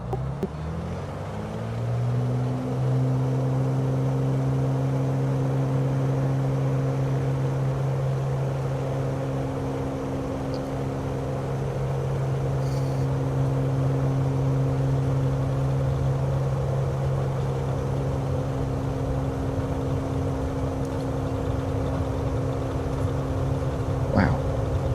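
Aircraft engine in a flight simulator game throttling up for the takeoff roll, a sustained droning hum that rises in pitch over the first seconds and then holds steady and loud.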